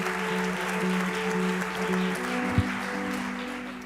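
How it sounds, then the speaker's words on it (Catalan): Theatre audience applauding an award winner at a publishing awards night at Teatre Romea in Barcelona, a steady dense wash of clapping lasting throughout, fairly loud and near, with a low hum underneath and no talk. "Un fort aplaudiment, sisplau."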